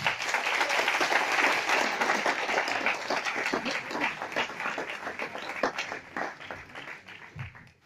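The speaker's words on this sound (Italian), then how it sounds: "Io vorrei che avviesse con grandissimo applauso il suo nome, Diego Gambaretto." An audience at a network-marketing event bursts into loud applause that then gradually thins out into scattered, more distinct individual claps toward the end.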